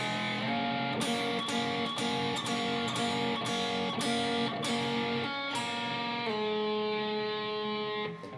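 Electric guitar playing part 2 of a blues song at slow tempo, a run of about nine picked notes and chords that ends on a long ringing chord.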